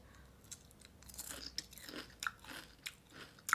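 Someone bites into and chews a healthy breakfast cereal up close, a quiet string of irregular crisp crunches and chewing sounds with no talking.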